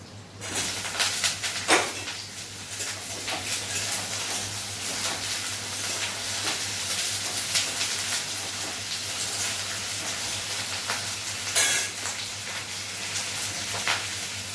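Cauliflower frying in hot oil with panch phoron, a steady close sizzle and hiss running throughout, with occasional louder crackles and spoon stirs, under a constant low electrical hum.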